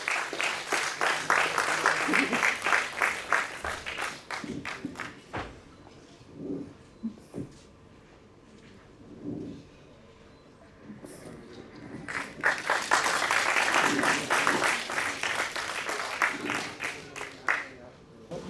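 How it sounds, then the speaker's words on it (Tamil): Audience applause welcoming a national powerlifting champion guest at an awards event, a burst of crowd clapping that dies down into a quieter stretch with a voice, then swells again into a second loud round. "ஒரு பெரிய கைத்தட்டலோட அவங்களை வரவேற்கலாமா?"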